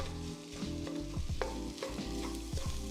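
Shrimp fried rice is stirred and tossed in a hot pan, with continuous loud sizzling broken by repeated scraping and clattering strokes of the utensil, close up and without talk.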